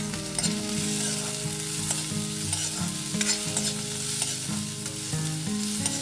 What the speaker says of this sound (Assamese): মই নহৰু আৰু আদাখিনি ইয়াতে দি দিম। জলকীয়া, তেজপাতকেইটাও দিম।